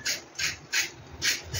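Thin peel being scraped off a pointed gourd (potol), four short rasping strokes at an even rhythm, close and alone.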